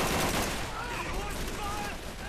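Rapid bursts from a mounted machine gun in Call of Duty 3, a dense continuous rattle of fire that stays loud and close throughout, with faint battle noise mixed underneath.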